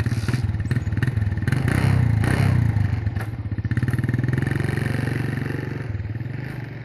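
Motorcycle ridden along a forest trail, its engine droning loud and close the whole way with steady revs, clattering and scraping from the rough ground.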